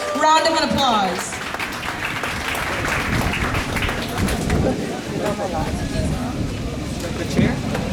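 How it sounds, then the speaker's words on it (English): A crowd at the ISKCON Scarborough Rathayatra 2024 festival claps steadily, the dense applause running the whole time beneath a loud, echoing voice speaking over it. "Please give them a thunderous round of applause."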